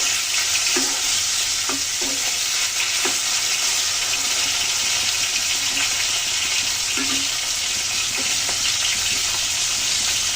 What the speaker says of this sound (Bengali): মাছগুলো যখন ভালো করে ভেজে দেবো, মাছগুলো ভেজে নিচ্ছি